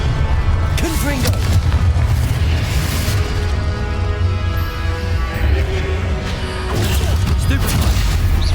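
Loud Confringo fire-spell blasts and booming impacts from the Hogwarts Legacy game pile up in dense, continuous combat noise, with a voice speaking over the chaos.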